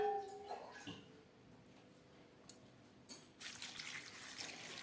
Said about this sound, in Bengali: এই কচুরলতির মধ্যে আমি একটু ঠান্ডা জল দিয়ে দেবো।